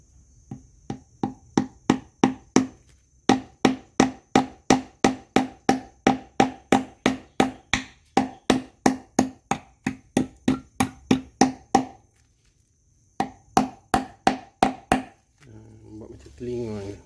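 Nails are hammered into a wooden trap box for stingless bees, sharp close knocks struck in quick, even runs of blows with short pauses between sets, ending in some softer handling noise.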